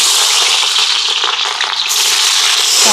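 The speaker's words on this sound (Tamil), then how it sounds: "இங்கே பாருங்கள் இன்னும் நல்லாவே சூடாயிட்டுது இதில் வந்து சின்ன வெங்காயம் சேர்க்குறேன்" Small shallots dropped into a very hot pan and frying, a loud, dense, continuous sizzle close up with no talking.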